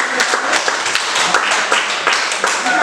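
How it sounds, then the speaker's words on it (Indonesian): A classroom of students claps together for a group that has just presented, a dense, steady burst of many hands close by with no voices over it. "Kita beri tepuk tangan untuk kelompok 1"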